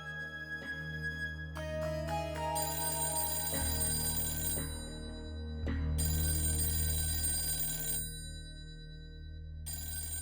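A home telephone rings steadily and insistently, bright electronic ring bursts repeating with short gaps over a low background hum, with no voices.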